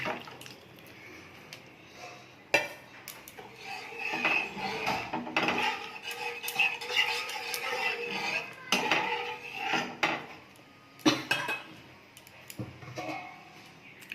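Masoor lentils go into a pot of boiled tomatoes on a gas stove, with a close, busy clatter of metal cookware, scraping and light rattling that comes in uneven bursts across the whole stretch.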